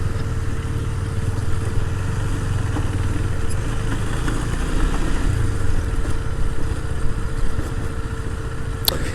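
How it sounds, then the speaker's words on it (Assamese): A motorcycle engine idles steadily while the bike is being parked, a continuous close, mid-pitched rumble with slight fluctuations and no voices. "এতিয়া এইফালে ইয়াতে ক'ৰবাত বাইক পাৰ্ক কৰিম"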